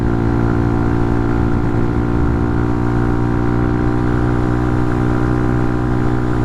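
A Hawk 250 motorcycle engine revving hard while climbing a freeway uphill, a steady, loud, buzzing drone that holds constant throughout with rushing wind noise and no talk.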